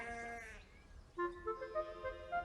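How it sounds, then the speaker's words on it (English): Sheep bleat several times in a field, one long wavering call followed by a run of shorter, higher bleats, fairly close and clear with no talking. "The sheep were getting noisier and noisier."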